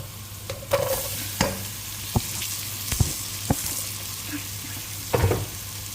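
Squid simmering in coconut milk in a pan, a steady low sizzle with several sharp scraping and clacking stirring strokes at irregular intervals, close by and moderately loud, no speech.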